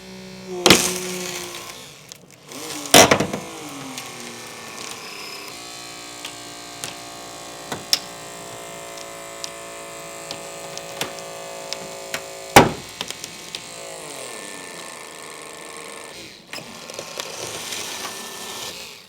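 A hydraulic rescue cutter bites through a car's roof post during a firefighter roof-removal training, with sharp metallic cracks and snaps over a steady engine-like hum of the powered tool, several loud bursts spaced across the scene.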